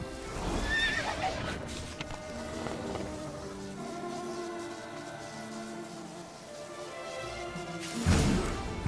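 Roach the horse in The Witcher 3 neighs loudly and gallops with rhythmic hoof clip-clops, followed by a further burst of hooves and movement near the end; no speech.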